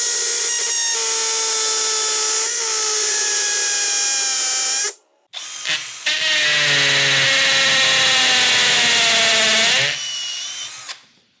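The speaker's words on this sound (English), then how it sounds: "you could hear the concussive force being transmitted into the concrete and drilling that hole out" A cordless hammer drill bores a hole into concrete, a loud close whine with a rapid hammering pulse, stopping briefly mid-way before a second long burst that winds down at the end.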